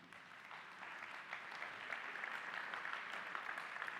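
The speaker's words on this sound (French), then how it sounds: "On peut les applaudir, merci." Faint, steady applause from an audience at an entrepreneurship seminar, a continuous soft wash of clapping hands that holds evenly throughout, heard from some distance.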